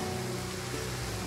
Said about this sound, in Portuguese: Maldita chuva